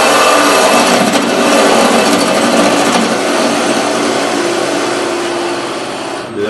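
A wood lathe spins while a turning gouge cuts a sweeping curve into the workpiece, giving a steady, loud, close whirring scrape that runs without break for several seconds and eases off slightly near the end.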